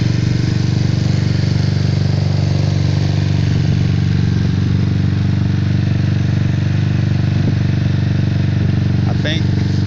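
A GY6 193cc four-valve stroker scooter engine with a Taida head and 32mm carburetor runs steadily on its first start-up, a loud, continuous mid-pitched drone with a busy mechanical rattle, heard close and alone.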